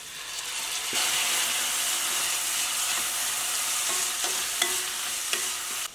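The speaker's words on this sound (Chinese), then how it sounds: "炒出油之后，我们倒入花椒、八角、葱姜、蒜和辣椒，把它给再次炒出香味。" Sichuan peppercorns, star anise, scallion, ginger, garlic and chilies are stir-fried in hot oil, giving a steady loud sizzle and hiss from about one second on, with a few sharp scraping clicks of the spatula near the end and no talking.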